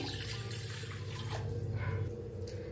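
A glass of water is poured into a cooking pot on a gas stove while making masala tea, giving a steady, close splashing pour that runs for a couple of seconds.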